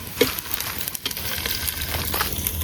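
Chicken with ginger garlic paste fries in a pan over a wood-fire stove at a temple feast, giving a steady close sizzle with crackles and a few stirring scrapes, with no voices.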